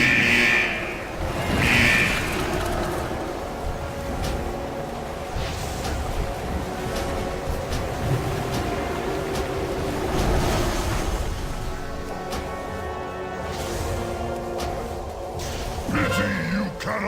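Crashing ocean waves in the World of Warcraft dungeon Eye of Azshara roll and surge beneath combat effects and a voice, broad rushing swells rising and falling throughout.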